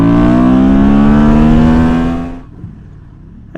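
Honda Transalp 750 motorcycle accelerating hard toward top speed, a loud, steady engine drone with rising pitch that cuts off abruptly, leaving near-silence before a brief return of engine noise.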